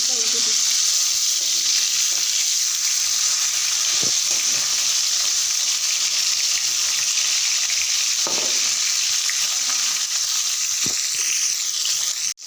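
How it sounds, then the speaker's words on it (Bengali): Fish pieces frying in a pan of hot oil, a continuous loud close sizzle with faint clinks of a utensil, no talk over it. "মাছটা ভেজে নিচ্ছি আর বাকি মাছগুলো ভেজে নিচ্ছি"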